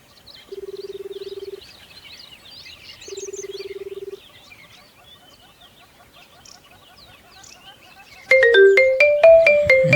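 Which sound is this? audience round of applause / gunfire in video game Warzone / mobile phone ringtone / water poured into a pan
mobile phone ringtone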